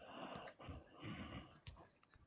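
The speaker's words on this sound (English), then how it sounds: "Somebody breathing heavy." Heavy, wheezy breathing close to the microphone, a few drawn-out breaths with snorting edges over about two seconds, fairly quiet and with no talk over it.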